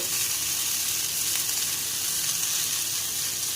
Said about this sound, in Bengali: কুমড়ো বেগুন ভাজা ভাজা হয়ে গিয়েছে। এবার ওপর থেকে দিয়ে দেবো সামান্য পরিমাণে পোস্ত।